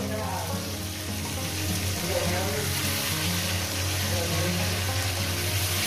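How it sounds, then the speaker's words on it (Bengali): Oil sizzles and crackles steadily as a piece of rohu fish fries in a pan, a continuous close-up hiss with faint background hum. "এবার এই পিসটা ভেজে নেব"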